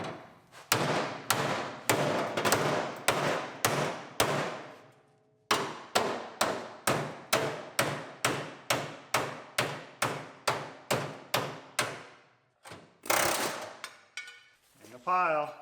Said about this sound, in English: Is this the right hammer?